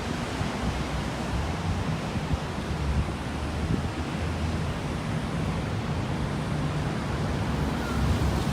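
Steady broadband wash of ocean surf on a Coral Sea beach lined with condos, continuous and fairly loud with wind buffeting the microphone and no distinct individual wave breaks.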